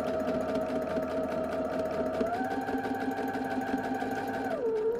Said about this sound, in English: Flip it to the right side out and sew a top stitch as close to the center on that curve as possible